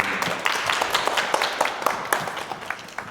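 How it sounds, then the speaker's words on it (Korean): An audience at a running-session Q&A bursts into brisk applause, a dense patter of clapping hands that carries on steadily for a few seconds. "박수 한번"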